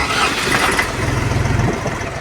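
Tractor engine cranking and catching after the key is turned, a loud close mechanical churn that settles into a rough, rhythmic idle.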